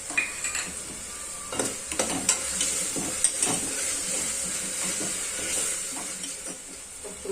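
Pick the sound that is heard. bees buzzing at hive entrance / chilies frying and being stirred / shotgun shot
chilies frying and being stirred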